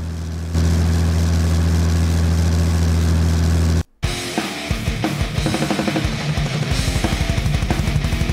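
Music with a heavy bass drum kicks in after a steady low engine-like drone and a brief cut to silence, the beat loud and punchy over a deep low end.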